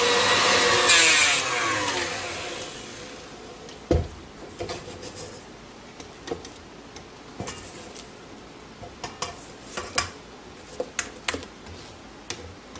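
A spatula scrapes the sides of a bowl of freshly churned, salted butter. A brief whirring burst fades out at the start, then scattered scrapes, taps and knocks sound close up with quiet gaps between them.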